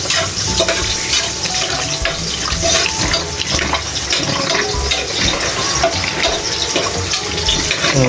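Strong mountain spring water pours from a tap in a home kitchen, a steady loud broadband rush that runs continuously without pause and with no voices over it.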